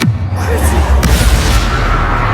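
Magical blasting spells from the video game Hogwarts Legacy go off as a loud, deep boom with a sharp crack and then a long rumbling roar that fills the space.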